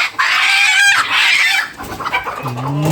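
Close, loud hen clucking and squawking in quick bursts, followed by a lower drawn-out cackle, with no talking.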